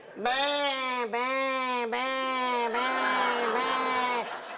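A long, wavering bleat of a flock of sheep, loud and near, holds for several seconds with four rising and falling swells. It is likely a performer's voice imitating the sheep during an outdoor storytelling show.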